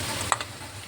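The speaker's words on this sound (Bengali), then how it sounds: "ভালো করে বাঁধাকপি কষিয়ে নিচ্ছি।" Boiled cabbage fries with spiced masala in oil in a Bengali home kitchen, giving a steady low sizzle broken by one sharp utensil tap.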